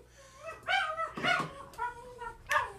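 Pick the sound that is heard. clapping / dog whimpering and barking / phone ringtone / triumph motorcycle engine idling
dog whimpering and barking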